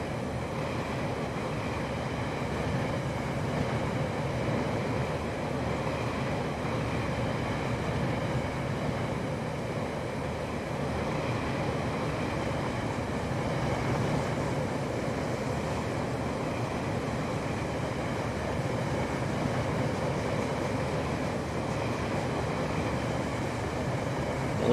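Trains rolling along track in the Rolling Line model railway game, a steady continuous rumble with no talk, even and unbroken throughout.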